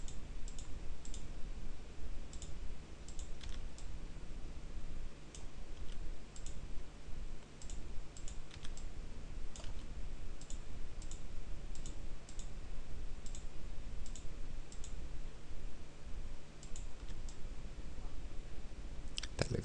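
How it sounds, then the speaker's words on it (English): Computer keyboard keys pressed as shortcuts in 3D modelling software, heard as faint, scattered light clicks over a steady background hiss with no talking. "By pressing keys on the keyboard like A for add cube and R for rotate, you can easily change modes"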